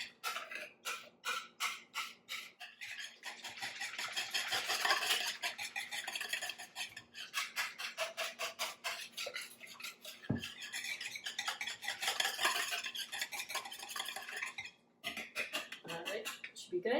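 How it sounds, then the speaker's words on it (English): A small whisk beats quiche filling in a bowl, giving fast, continuous rhythmic clinking and scraping close by, with brief pauses and a faint voice at times. "we are going to get a whisk and mix this up"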